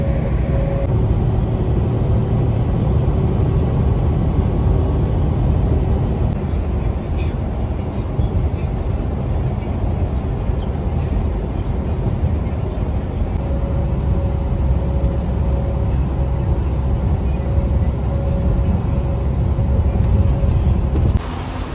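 Semi truck with a stepdeck trailer driving on a highway, a continuous loud low road rumble and engine drone filling the whole stretch, steady and close, with no talk over it.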